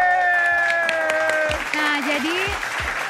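An audience claps in a short burst at a youth talk on self-love, the applause spreading across the room while a speaker talks over it.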